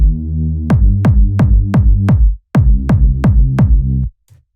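Deep bass notes fattened by a low-end EQ boost, struck in a regular series of plucky hits with a short gap midway, loud and boomy, heard alone.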